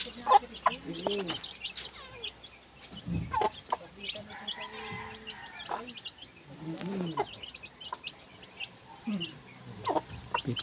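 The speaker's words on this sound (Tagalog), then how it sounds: "Pitong sisiw." Chickens cluck with chicks peeping on a rural Philippine farm near a hut, scattered clucks and cheeps repeating close by over the whole stretch, mixed with low background sounds.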